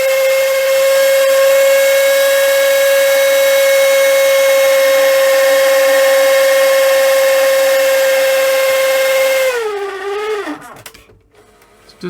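A loud, steady high-pitched whine from a noisy Panasonic NV-V8000 S-VHS video recorder's tape mechanism rings for several seconds, then wavers and bends downward before dying away into mechanical rattling.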